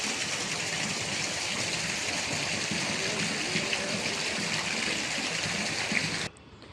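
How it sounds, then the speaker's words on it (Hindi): Dirty water rushes steadily past a landslide at Sukhatal lake, a loud, continuous broadband wash that fills the clip before cutting off abruptly near the end. "तो ये देखो सामने किस तरीके से पूरे पानी बह रहा है, गंदी स्थिति पानी की।"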